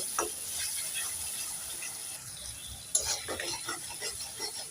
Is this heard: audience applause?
no